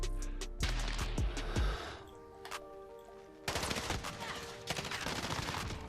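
Gunfire in Call of Duty Modern Warfare, rapid automatic bursts and loud close shots in clusters, with a few deep booms early on and a brief quieter lull midway.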